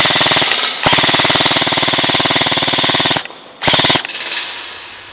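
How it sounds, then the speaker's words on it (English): A suppressed airsoft gun fires on full auto in two loud, rapid mechanical bursts, a long rattling string followed by a brief pause and a shorter burst that trails off. "But let's shoot it a little bit on full auto."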